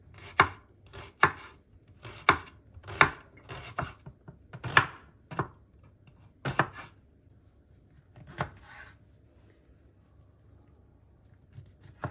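A knife chops salad ingredients on a board for a tuna salad, about a dozen crisp, close strikes in irregular bursts, louder at first, then sparser and fading.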